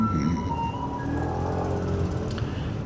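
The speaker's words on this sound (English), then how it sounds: "Let's get away from that garbage truck" Garbage truck idling nearby on a city street in Zhudong, a steady low engine rumble with a faint melodic chime tone drifting over it, continuous throughout.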